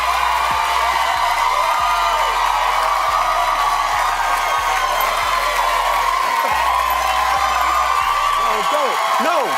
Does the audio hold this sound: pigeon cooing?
no